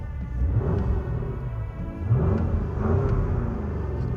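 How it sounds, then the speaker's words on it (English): Porsche Cayenne Turbo GT with a twin-turbo 4-litre V8 starting and settling into a deep idle, a close low rumble that swells slightly and stays steady, without talk. "Now, starting up, I really do wish we still had a turnkey."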